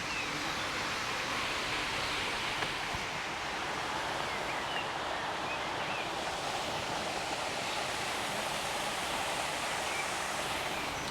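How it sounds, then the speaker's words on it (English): A newly installed waterfall in a seaside park in Seaburn gives a dense, constant rush of falling water. The roar stays loud and unchanging throughout, with no voices. "I just want to show you this amazing waterfall in this park."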